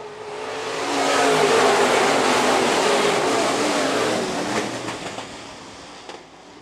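IMCA modified race cars roar past on a dirt oval, engines swelling to a loud, dense rush as the pack goes by and then fading slightly as it moves away.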